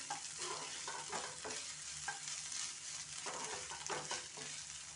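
Onion, garlic, ginger and stuffed pointed gourd fry together in a pan with a soft, steady sizzle and repeated stirring scrapes, fairly quiet and with no talking.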